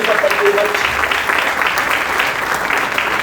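Crowd at a corporate success-story event applauding the master of ceremonies, loud dense clapping that carries on steadily throughout, with some voices mixed in.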